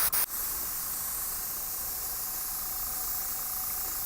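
An airbrush sprays Halloween makeup with a steady, even airy hiss that runs without a break after a few brief clicks at the start.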